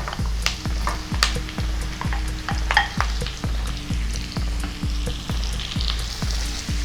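Onions being stirred and fried in a pan before marinated chicken goes in, a steady sizzle broken by regular rhythmic scrapes of a spatula, close and continuous with no talking.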